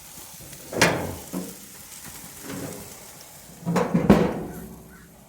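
Pineapple-marinated meat sears on a hot grill with a soft, steady sizzle, interrupted by several louder bursts of spitting and clattering as the pieces are handled.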